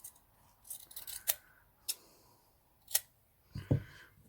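Scissors trim the excess end of a 3-inch ribbon while a rose-style hair bow is made at a desk, giving a few sharp, close snips spaced about a second apart, followed by a light handling rustle.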